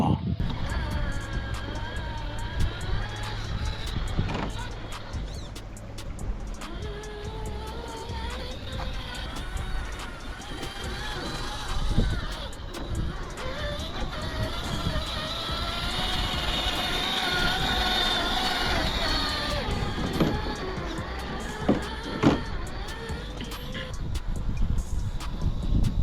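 Rlaarlo MK-07 RC jeep running in low gear at full throttle, a steady whining motor drone with rising harmonics, fairly close and continuous over the whole stretch under background noise.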